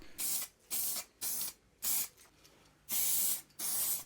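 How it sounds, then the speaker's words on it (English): Aerosol primer is sprayed onto a lower radiator mount from a Triumph TR7, with six short hissing bursts separated by brief pauses, close and crisp with no voices. "So it got a bit of primer."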